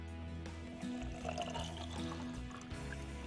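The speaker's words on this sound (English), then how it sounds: "Add the salt to the 5-ounce bottle, then fill the bottle with water." Water pours and gurgles into a 5-ounce bottle of salt in a steady, close trickle with a faint hollow ring as it fills.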